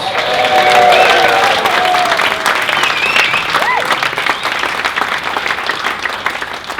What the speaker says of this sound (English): So a big cheer for them, please.